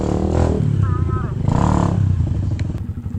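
A motorcycle with a broken clutch runs with a rough, clattering engine that rises and falls in revs up close, while people talk and shout over it.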